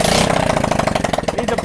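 A Honda CT90 fitted with an aftermarket 125cc engine cranks on choke, giving a steady run of rapid, even pulses at close range with no voices over it.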